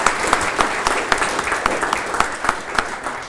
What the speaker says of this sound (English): let's give Thomas a final round of applause